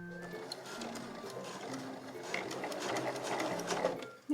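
A sewing machine runs steadily, stitching a 12 cm zipper along the edge of Marimekko cotton fabric for a small curved pouch, a close, continuous mechanical whir with a brief thump at the end.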